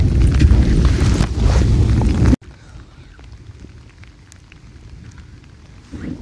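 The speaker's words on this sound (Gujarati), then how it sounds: "કેવો પડે વરસાદ" Monsoon rain pours hard and steadily for about two seconds before cutting abruptly to a much quieter patter of drops with light wind noise, with no talk.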